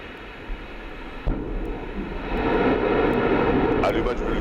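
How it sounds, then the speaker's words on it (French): An Ariane 5 rocket ignites its Vulcain main engine and solid boosters, then lifts off. A low, distant rumble swells and holds steady while an announcer's voice continues over it. "Allumage Vulcain. Allumage EAP, décollage."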